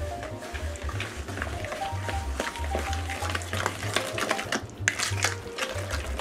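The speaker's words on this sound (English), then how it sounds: "So first we're gonna mix all this together" Mashed bananas, diced apples, an egg and sugar are stirred together in a bowl, giving a steady wet squelching and scraping with rhythmic low thumps of the spoon throughout, close and fairly loud.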